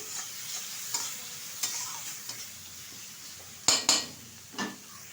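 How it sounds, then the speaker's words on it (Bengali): Ground onion paste frying in oil in a pan gives a quiet, steady sizzle, broken by occasional scrapes and sharp clinks of a spoon stirring against the pot. "ভালোভাবে পেঁয়াজটা এখন ভেজে নিচ্ছে"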